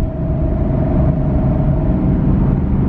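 Steady, loud engine drone from a Chevrolet Camaro SS 50th Anniversary with rev match engaged, a sustained low rumble holding constant revs with a faint steady tone above, no speech.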